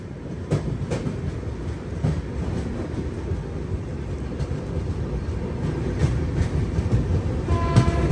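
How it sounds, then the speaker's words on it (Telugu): Ajmer–Durg weekly express train rolling along the tracks, heard from inside as a steady rumble with faint periodic clicks of wheels over rail joints. "కదిలింది మన ట్రైన్"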